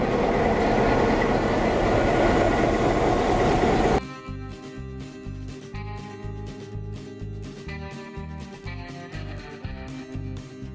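Small heritage railroad train ride at a railroad museum in Parrish, Florida, heard on board: steady rumbling wheel and carriage noise, loud and broadband at first, then a lower rhythmic clatter with bumps and knocks continuing throughout.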